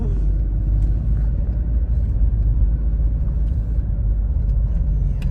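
A car moves along the road with a steady low rumble of engine and tyres, heard from inside the cabin at an even, fairly loud level throughout.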